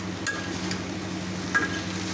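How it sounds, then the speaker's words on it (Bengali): Teasel gourd and potatoes fry in a pan on a stove, a steady low sizzle under a constant background hum, with two brief scrapes of a stirring utensil. "পাশের চুলায় হচ্ছে কাঁকরোলটা ভাজা করে নিতেছি।"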